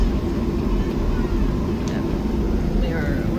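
Jet airliner rolling along the taxiway toward the runway at Charlotte in the early morning, a steady low engine rumble and cabin hum filling the space continuously, heard from inside the cabin.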